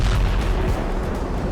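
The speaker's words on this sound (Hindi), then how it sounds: "एक के बाद एक कई धमाके हुए।" Loud, rapid blasts crash together in a dense burst as a drone strike hits a Ukrainian MT-12 anti-tank gun crew dug in among trees. The booming is close and continuous, with no voices.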